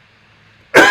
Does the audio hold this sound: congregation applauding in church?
no